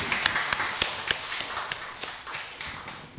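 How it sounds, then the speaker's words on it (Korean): A church congregation applauds, with a dense spread of hand claps and a few sharper individual claps standing out, fairly quiet and steady throughout, with no talk over it. "일단 박수 한번 쳐드리겠습니다"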